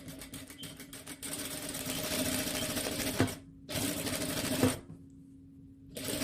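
A sewing machine stitches a flat felled seam on the wrong side of fabric, running in a loud, fast, steady whir that stops briefly twice and then resumes, with no talking.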